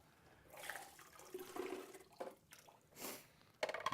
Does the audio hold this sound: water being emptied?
yes